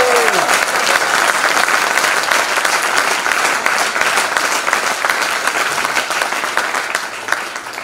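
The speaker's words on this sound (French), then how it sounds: "Je crois qu'il faudrait qu'on l'applaudisse" A political meeting audience applauds an Alsatian language advocate, a long, dense burst of clapping from many hands that stays strong for several seconds before easing slightly toward the end, with faint voices beneath.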